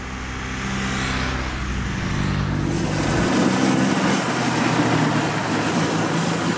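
BMW R nineT flat-twin motorcycle engine running steadily while riding, a loud continuous low drone that deepens partway through as the revs change, heard alone with no talk.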